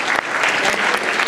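Dense applause from an audience fills the brief moment, loud and continuous from start to finish with no voices over it.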